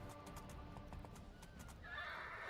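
A horse in the fantasy video game Two Worlds neighs loudly and alone, a drawn-out whinny that rises near the end of the short stretch.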